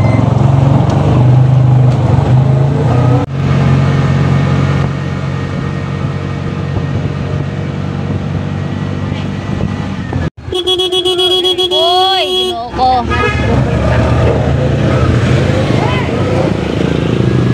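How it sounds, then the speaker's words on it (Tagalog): Busy morning street traffic near a church in a town center, with cars and motorcycles passing and occasional horn toots, a steady loud rumble, and people talking over it throughout. "Traffic."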